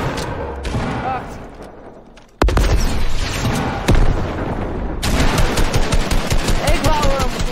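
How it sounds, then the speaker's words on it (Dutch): Rapid automatic gunfire and heavy booms from a Fortnite Battle Royale match, with bursts and single shots cutting in loudly and continuing throughout, mixed with game effects. "Het schot mis, Tom!"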